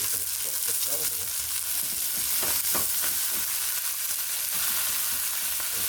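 Meat searing untouched in a skillet for a one-pot lasagna gives a steady, close, dense sizzle that hisses on without pause, with a few faint crackles and no voices.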